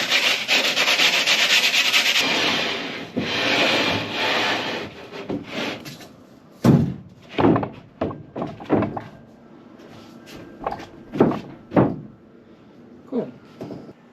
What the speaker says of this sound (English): I did sand it really quick just because this edge will get like little bits everywhere